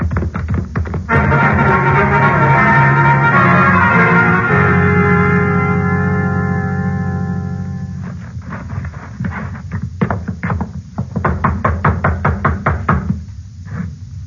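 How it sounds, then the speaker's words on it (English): A radio drama sound effect of knocking on a ranch gate door, a long run of loud, rapid, echoing knocks, then sparser knocks after a pause, with no talk. "Knock again."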